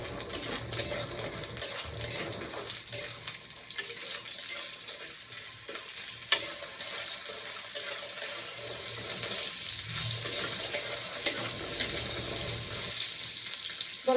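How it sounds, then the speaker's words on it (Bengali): Pumpkin fritters, kumro bora, frying in a pan until deep red, a continuous bright sizzle with regular soft taps and scrapes of a utensil close by, no speech. "বড়াটা ভেজে নিতে হবে অনেক সুন্দর করে, মাছ যেমন করে ভাজে ওইরকম করে লাল লাল করে ভেজে নিব"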